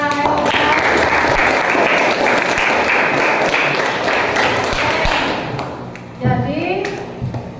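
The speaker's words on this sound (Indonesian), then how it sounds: "Kita beri tepuk tangan untuk Rahel." Classroom applause for a student, a dense burst of many hands clapping loudly for several seconds before fading out, followed by a few thuds and voices of students chattering.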